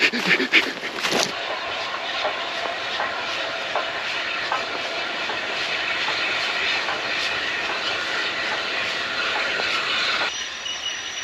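A steam train passes on a line near a viaduct, a steady loud rumble with rail clatter and wheel noise filling most of the stretch before easing near the end.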